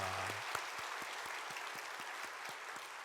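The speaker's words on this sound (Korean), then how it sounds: "박수하겠습니다" Sustained applause from a church congregation, an even rattling of many hands clapping, heard from a little distance.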